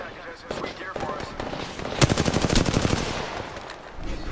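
Automatic gunfire in the video game Apex Legends: a rapid, loud burst of shots in a tight rhythm, with a voice talking before the burst.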